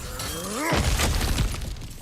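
Cracked ground being smashed in God of War on PS5: a rising grinding crack, then a loud shattering burst of breaking rock and debris that rattles and settles over about a second.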